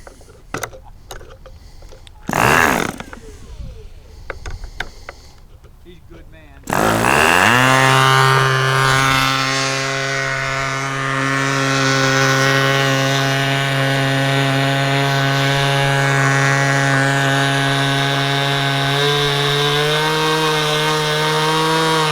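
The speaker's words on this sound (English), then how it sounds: "I'm going to go on the rich side and see what happens" An SH46 Sonic Hi Wing model engine running rich during break-in gives a few sputtering bursts, then roars into a loud, steady buzzing drone that wavers slightly in pitch and holds close up to the end.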